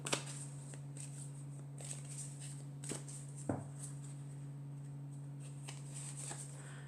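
Tarot cards are handled quietly up close, with a few soft flicks and snaps as they are shuffled and drawn over a low steady electrical hum, no voices.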